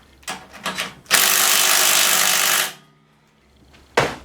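A small air impact gun strains against tight half-inch head bolts on a 5hp Tecumseh engine from a Mastercraft MTD snow blower: a few short stuttering bursts, then one loud sustained hammering run of about a second and a half, a brief pause, and another sharp burst.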